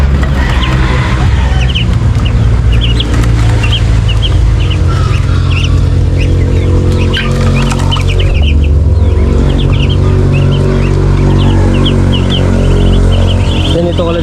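Backyard Brahma chickens, a rooster and a hen, cluck in short repeated bursts close by on a small farm, set over a loud, continuous low hum.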